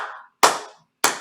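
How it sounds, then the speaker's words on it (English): Sharp hand claps at a steady, slow pace for a neo-pagan Oestara ritual, three crisp claps close and loud, each ringing out briefly before the next. "I'm going to do clapping"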